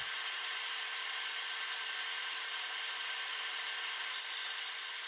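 A saw cuts 45-degree strips from an inch-thick scrap wood board, giving a steady, bright whining hiss that runs unbroken for the whole stretch with no voices over it.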